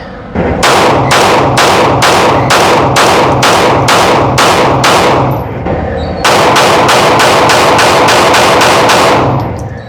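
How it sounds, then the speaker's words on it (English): A pocket pistol firing in two strings, each made of evenly spaced, very loud sharp shots. The first string holds about ten shots and the second about eleven, separated by a brief pause, with no talk. "Let's go ahead and shoot it and see what we think."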